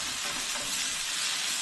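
Garlic and onions fry in a pan as they are stirred, giving a continuous, fairly loud, even hiss of sizzling oil with no pauses.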